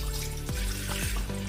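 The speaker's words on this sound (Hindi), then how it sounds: "इसमें पानी डाल देंगे" Water pours into a large cooking pot for making gulab jamun syrup, a loud, close, steady gushing splash with gurgling dips as the flow shifts.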